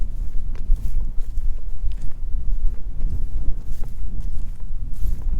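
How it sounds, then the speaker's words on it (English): Steady gusty wind rumbles and buffets close to the microphone, with a few soft thumps and footfall-like knocks beneath it. "It is a little bit windy, I'm afraid."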